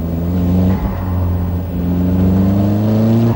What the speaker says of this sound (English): It's all about what happens when you put your foot down in this car